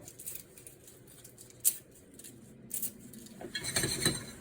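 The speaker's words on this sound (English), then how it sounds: "now I'm going to go ahead and break up a couple of our bay leaves" Dried bay leaves broken up by hand for homemade biryani masala, giving several quiet, brittle crackles and snaps, one sharp crack standing out, then a denser crunching burst near the end.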